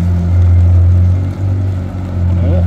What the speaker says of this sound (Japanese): フェラーリのこれエンジン音やばいね